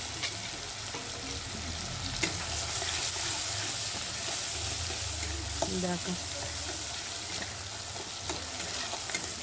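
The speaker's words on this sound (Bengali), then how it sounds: "দেখো পেঁয়াজটা তেলে ভাজা হচ্ছে।" Onions fry in oil in a pan, making a steady, close hiss and crackle that carries on throughout. A voice speaks briefly over it.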